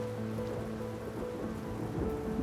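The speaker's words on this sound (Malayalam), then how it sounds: "ഇടിവെട്ടുന്ന ശബ്ദം കേട്ട് ചക്കിപ്പൂച്ച ഞെട്ടി" Rain falling steadily with a low thunder rumble beneath, a soft even wash of drops at moderate distance, with a faint tonal hum running through.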